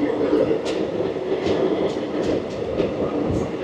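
The Amarnath Express, train 15654 from Jammu Tawi to Guwahati, rolls into a station with a steady rumbling roar and faint rhythmic wheel clacks, sustained and close throughout.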